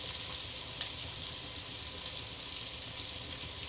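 Sliced onions and curry leaves frying in hot oil, a steady bright sizzle and crackle at moderate loudness, close by and without any talk.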